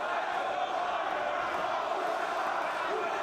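A raucous crowd at a wrestling event sends up a dense, steady roar of cheering and shouting that fills the space evenly without pause.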